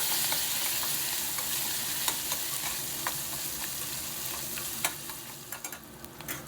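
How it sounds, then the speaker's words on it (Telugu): Onion, green chilli, ginger and curry leaves frying in a hot oil tempering for Andhra-style upma: a steady close sizzle with scraping stir clicks scattered through, growing busier near the end, no voices. "పోపు వేగిన తర్వాత ఆనియన్ పచ్చిమిర్చి అల్లం ముక్కలు కరివేపాకు ఇవన్నీ వేసేసి ఒక్కసారి బాగా ఫ్రై చేసుకుందాము"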